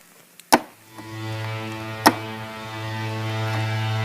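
A sustained synth drone with a sharp percussive click starting it and another midway, the tone ringing out with a washy, reverberant tail.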